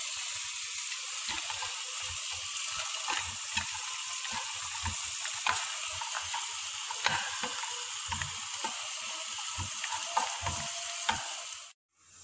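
Cashew nuts fried together with coconut in a pan for a roasted chicken curry, giving a steady close sizzle with repeated stirring scrapes and clinks throughout, and no talking.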